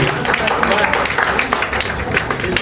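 An audience claps and cheers steadily throughout a political speech rally, a dense continuous wash of applause with crowd noise and some voices mixed in.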